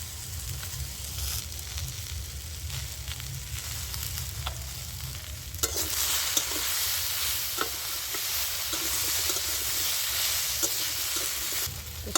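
Chopped vegetables frying in a pan for a spinach chorchori as salt and turmeric go in, with a steady close sizzle, scraping stirs and sharp utensil knocks against the pan. The sizzle grows brighter and louder partway through.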